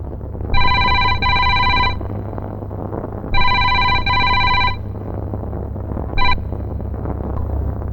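A telephone rings in two double bursts of a bright trilling bell, followed by a short partial ring, over a low steady hum.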